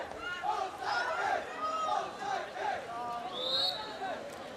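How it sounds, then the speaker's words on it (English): Fans at a local girls high school water polo match cheer and shout in an indoor pool, a loud, lively crowd roar with overlapping voices rising and falling. "Crowd getting involved, getting excited."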